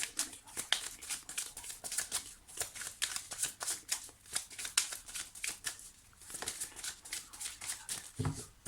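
A deck of tarot cards being shuffled and cut, with steady rapid riffling and flicking that goes on for several seconds, fairly quiet and close, with no talk over it.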